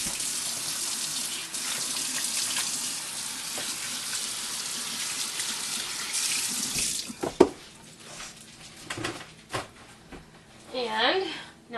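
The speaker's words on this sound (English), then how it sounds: "Rinse my hands a little." Hands being rinsed under a running kitchen tap while making breadsticks: a steady loud water stream for about seven seconds, then the flow stops, followed by scattered clatter and someone talking.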